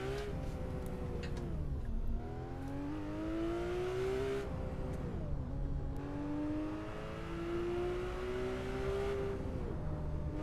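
A manual Porsche engine in Assetto Corsa, cruising the Shutoko expressway: a steady, moderate engine drone that climbs in pitch through the gears and drops at each shift, repeating over the stretch with no talk.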